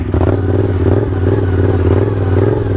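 A Yamaha R7 motorcycle holds a steady, close engine drone through a slow tight turn, a low harmonic hum with a faint mechanical clatter running over it.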